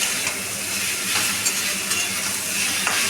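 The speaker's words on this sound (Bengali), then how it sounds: "আবারও ভালো করে সবজিটাকে কষিয়ে নেব আমি" Mixed vegetables and stalks with cane jaggery stir-fry in a pan, a continuous bright sizzle broken by intermittent spatula scrapes and light clinks, close and fairly loud.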